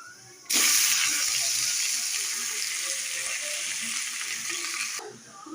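Water-washed leafy greens hit hot tempering oil with crushed garlic, bursting into a loud, steady sizzle that stays strong for several seconds before easing off.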